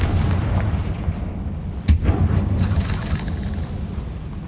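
A Confringo fire spell bursts with a sharp explosive boom amid rumbling game sound effects in Hogwarts Legacy, one loud impact standing out over a dense, steady background.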